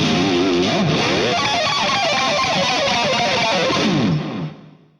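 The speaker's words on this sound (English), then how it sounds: "It's not really a high distortion gain, it's just a smooth overdrive." An electric guitar runs through a Rocktron Valve Charger pedal set for smooth, moderate overdrive, playing a sustained phrase that rings out and fades at the end.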